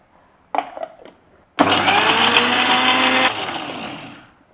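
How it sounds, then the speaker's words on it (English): An electric grinder grinding tamarind and dry chilies for Sri Lankan Jaffna odiyal kool, a few short clatters and then a loud steady whirring motor run of nearly two seconds that drops in pitch and winds down. "We have to grind it now."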